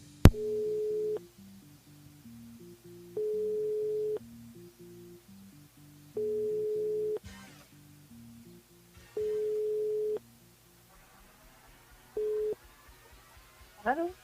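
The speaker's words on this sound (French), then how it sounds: "On appelle Marie-Laure du côté de Saint-Denis" Telephone ringback tone on a radio call-in show, repeated evenly spaced long beeps with silent gaps between them, clear and prominent, ending with a brief click and a short burst of sound.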